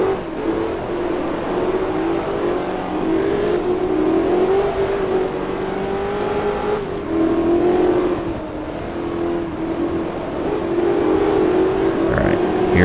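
A Shelby Cobra race car engine drones loudly in Forza Motorsport 2, holding a steady high-revving tone at top speed while slipstreaming, with slight pitch rises and dips throughout.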